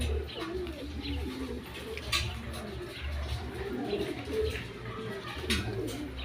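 Soft, low racing pigeon coos repeat over a quiet background, with occasional faint chirps and clicks.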